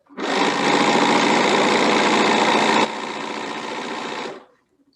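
A quilter's sewing machine runs steadily for about four seconds, chain piecing quilt strips with Aurifil thread. The whir is close and continuous, dropping slightly in pitch and level partway through, then stops.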